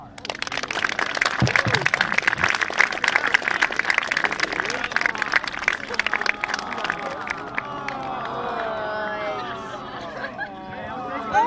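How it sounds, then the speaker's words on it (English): A large audience at a high school class day ceremony claps loudly and steadily for several seconds, the applause thinning into scattered cheers and crowd chatter. "they had a nice round of applause"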